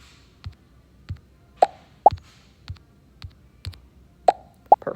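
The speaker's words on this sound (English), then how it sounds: "And then we want it to play a pop sound." Scratch's built-in pop sound effect firing in a Pong game, a series of short, bright plops repeating irregularly about once every half second, fairly loud and clear with no talking.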